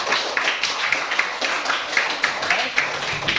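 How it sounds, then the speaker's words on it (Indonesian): A class of schoolchildren claps together in a brisk, fairly even burst of applause, close and moderately loud, with a few voices mixed in. "Terima kasih, tepuk tangan untuk kita semua."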